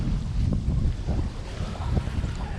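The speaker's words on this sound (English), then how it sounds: "We got a decent breeze, we got about 10 knots." A steady 10-knot breeze rushes across the microphone aboard a sailboat at sea, with continuous low buffeting and faint water sounds underneath and no talking.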